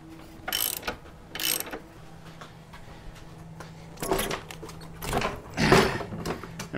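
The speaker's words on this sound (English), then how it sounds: "As I'm doing this, I'm being mindful of the tension on my ratchet straps." Ratchet straps holding a 1984–2017 Harley-Davidson Softail are cranked in short bursts of clicking pawl ratcheting, some quick, some drawn out, with quieter mechanical clunks between, heard close by with no talk.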